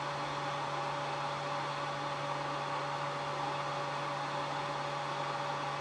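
A hair dryer heating parts of a Smart Doll during assembly blows steadily and unbroken, a constant airy roar with a low hum, close by and alone.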